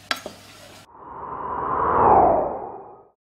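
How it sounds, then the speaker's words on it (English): Chicken curry stirred in a pan, a single long swishing scrape that swells and fades, preceded by a couple of sharp clicks, close and alone. "you give that a stir, I'll give this a stir"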